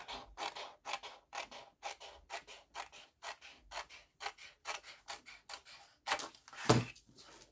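Scissors cut a piece of paper to make a paper rosette, producing a close, rhythmic series of about fifteen crisp snipping and rasping strokes with short pauses between them.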